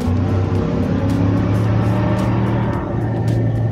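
Ford Raptor pickup truck pulling through its gears, a loud close engine drone with low rumble that holds steady, heard from inside the cab.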